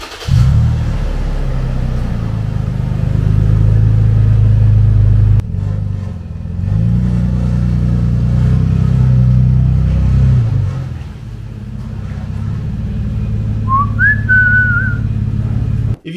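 A 2015 Toyota 4Runner V6 engine idling steadily with a faulty, leaking part, giving a loud, continuous low rumble with a high whistling tone that rises briefly near the end.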